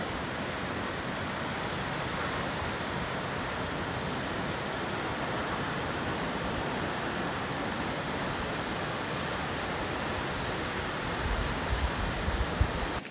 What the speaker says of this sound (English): These are Australia's highest waterfall.